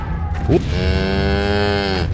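A cow in the video game The Baconing gives one long, loud, drawn-out moo that holds steady for well over a second, alone with a brief squeak just before it.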